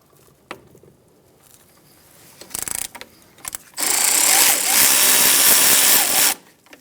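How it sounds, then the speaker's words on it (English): Power tool driving a 14mm socket on front brake caliper bolts of a 2014-2018 Subaru Forester, scattered clicks and taps followed by a loud, steady buzzing run of about two and a half seconds that then cuts off. "I'm going to use a 14mm socket to loosen caliper bolts."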